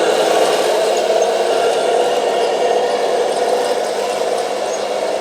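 A low-cost RC model tank drives along with a steady electric motor whir and gear rattle, loud and continuous, with no voices.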